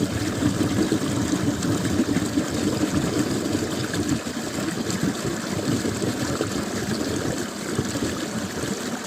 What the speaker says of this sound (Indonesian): suara gemericik air itu terapi ya